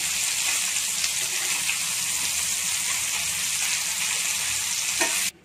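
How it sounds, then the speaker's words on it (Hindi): Chicken pieces fry in a pan for a Cheetos chicken burger, giving a steady, close hiss and sizzle that cuts off abruptly at the end. "तो ऐसे पलट पलट के अच्छे से फ्राई कर लूँ दोनों साइड को चारों तरफ अच्छे से फ्राई हो जाएगा"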